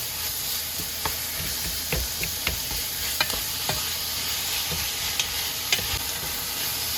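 Pepper steak sautéing in oil in a pan over medium heat makes a loud, even sizzle, broken by sharp scraping taps of stirring every second or so, with no voices.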